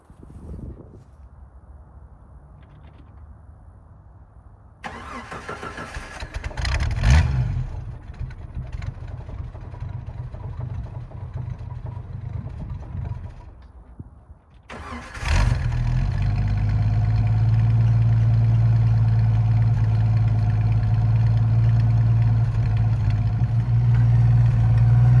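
A carbureted Jeep Wrangler YJ engine cranks and briefly catches, dies back, then starts on a second attempt and settles into a steady, loud, rough idle close by, on a cold morning.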